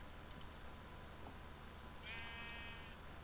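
A baby sheep in an island survival video game gives one faint, quivering bleat over a quiet background hum.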